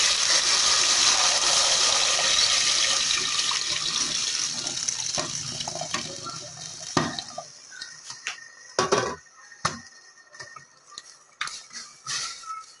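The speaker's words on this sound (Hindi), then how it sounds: "बहुत ध्यान के साथ आपने दूध डालना है ताकि दूध की जो छींटे हैं वो आपके चेहरे पे या हाथों पे ना पड़े।" Milk, about half a kilo, pours steadily into hot caramel in a pan for suji phirni, a loud liquid splash and sizzle that fades after several seconds into scattered clinks and bubbling.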